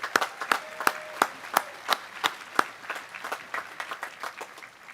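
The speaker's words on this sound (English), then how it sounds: "One round of applause for everybody" Audience at a university undergraduate commencement ceremony claps, with sharp, distinct hand claps standing out over a thinner spread of applause that tapers off.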